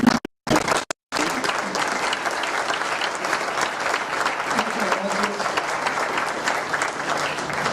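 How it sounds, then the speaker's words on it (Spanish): After a couple of brief cut-off bursts, an audience at a book presentation breaks into full, steady applause, a dense roomful of clapping that continues evenly to the end. "Entonces yo creo que vamos a dar un aplauso."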